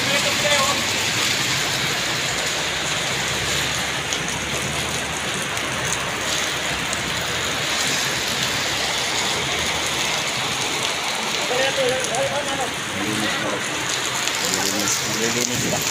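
Heavy rain pours down steadily, a dense continuous hiss of drops on surfaces lasting throughout, with faint background sounds.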